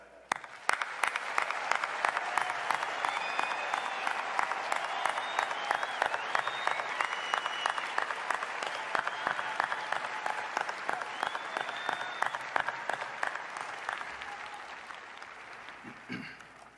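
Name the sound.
applause for graduates at a commencement ceremony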